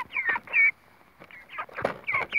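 Young mixed-breed chicks, including red naked-neck birds, at eight weeks old, peeping and clucking in short excited bursts while eating cabbage, close by with brief pauses between calls.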